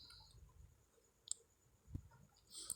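A couple of faint, sharp mouse clicks land apart from each other in an otherwise near-silent room as a Done button is pressed.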